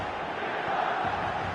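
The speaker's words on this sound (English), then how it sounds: "Certainly gave this crowd something to really cheer about." Stadium crowd noise from an eFootball match on PS4, a dense steady roar of cheering spectators that holds level throughout, no distinct voices standing out.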